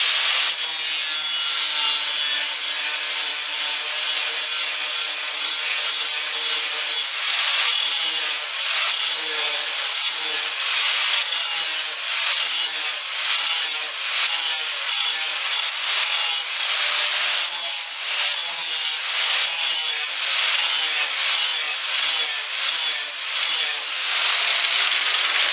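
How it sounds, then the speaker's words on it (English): Grinder sharpening a lawn mower blade, a loud continuous harsh grinding hiss held close for the whole stretch, with rhythmic scraping pulses as the tool moves along the metal edge. "grind on this blade"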